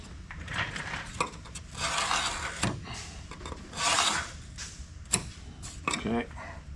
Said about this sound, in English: we're going to take a scribe, and I'm scribing the outer edge of the part